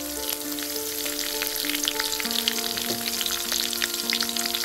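Chopped curry leaves dropped into hot oil for dal khichdi, a dense crackling sizzle with scattered pops and a faint tonal hum beneath.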